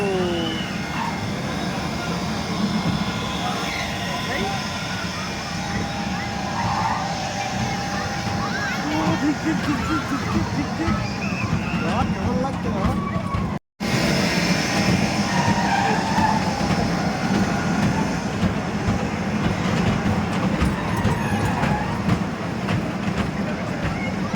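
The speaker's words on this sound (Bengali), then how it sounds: "মেলায় এসে আমি ছেলে বর টয় ট্রেনে উঠেছি এই দেখো" A toy train ride at a fair in Madhyamgram during the Raas fair rattles and rumbles loudly and continuously, with crowd noise and nearby voices throughout and a brief dropout midway.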